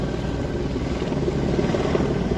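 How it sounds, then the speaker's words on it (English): Helicopters flying overhead in Palermo, Sicily, a steady loud rotor and engine roar that fills the whole stretch without a break. "These helicopters are going crazy!"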